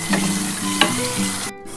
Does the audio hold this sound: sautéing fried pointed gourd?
yes